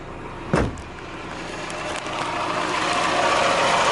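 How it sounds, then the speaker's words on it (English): A car engine runs steadily at idle after a brief clunk, a low continuous hum that grows slightly louder. "let me show you the engine. It sounds super healthy."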